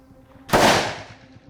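A single loud, close large-calibre handgun shot fired at a metallic silhouette target 150 metres away, a sharp crack with a long decaying tail, with no one talking.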